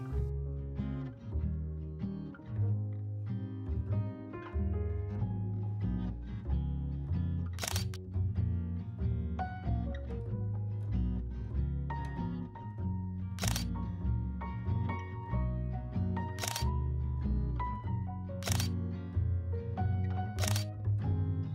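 An SLR camera shutter fires a handful of times, sharp isolated clicks spaced several seconds apart, while a Godox MF12 macro flash is used to photograph butterflies; the shots sit over steady background music with no talking.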